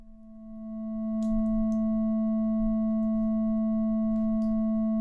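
A 220 Hz sine wave, soft-clipped and saturated by distortion in Max/MSP, holds as a steady, evenly sustained tone throughout, fading in briefly at the start and then staying constant with a few faint clicks.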